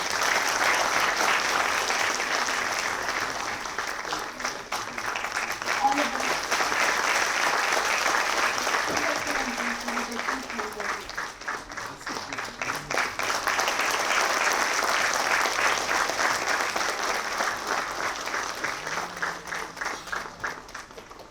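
Sustained applause from an audience at a university event at Nalanda, filling the whole span with dense, steady clapping that swells and eases slightly, with no speech over it.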